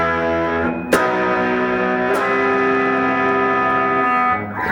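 Distorted electric guitar chord ringing out with effects, sustained and dense, struck once near the start and again partway through, then left to ring loudly until it cuts off.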